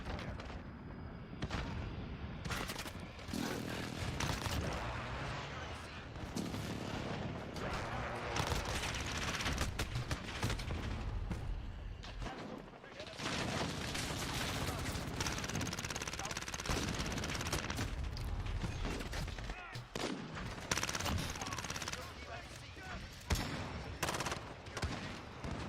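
Call of Duty Modern Warfare gunfire: dense, continuous bursts of automatic shots and heavy blasts, loud and close, with a voice talking at times over the shooting.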